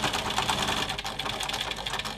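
A sewing machine stitches steadily across the end of a belt for an apron dress, its rapid needle chatter continuous and fairly close, with no talking.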